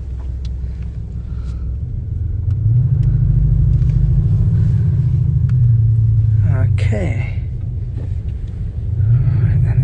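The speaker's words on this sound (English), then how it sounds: "Loads of cars here. It's so busy here today." Cars on a busy street rolling past one after another, loud low rumbling swells that rise and fade close by, with someone speaking briefly over the traffic.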